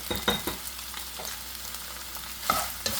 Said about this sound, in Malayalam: ഇപ്പോൾ എണ്ണ നന്നായിട്ട് ചൂടായിട്ട് വന്നിട്ടുണ്ട് ഇതിലേക്ക് നമുക്ക് ഈ സോയ ചങ്ക്സ് ഇട്ട് കൊടുക്കാം